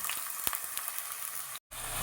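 Two chopped onions fry in about four spoons of hot oil for a mutton brain kheema dish, a close, continuous hiss and sizzle with a brief dropout near the end.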